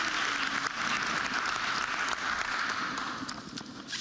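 Steady applause from a gathered audience at a sustainability community event after a worship band, a continuous dense clapping texture that thins slightly toward the end.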